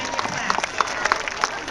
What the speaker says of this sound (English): Let's give them one more round of applause as they go back.